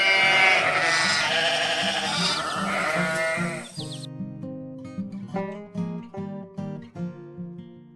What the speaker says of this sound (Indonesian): Lihat domba yang sedang dijaga.